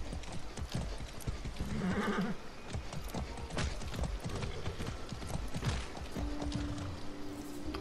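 Horse hooves clip-clop at a gallop with a loud neigh and whinny in the video game Far Cry 6, amid busy in-game noise and mechanical clatter, continuous and close throughout.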